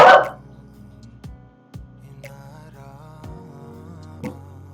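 A dog barks sharply a few times at irregular intervals, fairly close, with a loud burst at the start and quieter yips after.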